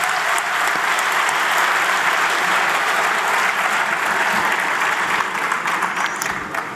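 Loud, sustained applause from an audience at a kavi sammelan poetry gathering, a dense steady roar of many clapping hands that carries on without a break.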